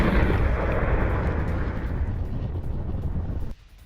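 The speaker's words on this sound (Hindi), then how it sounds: "अमेरिकी बेस में जोरदार धमाका सुना गया" A loud, rumbling blast from an attack on a US base in Baghdad, Iraq roars for several seconds, deep and powerful, then cuts off abruptly into near quiet.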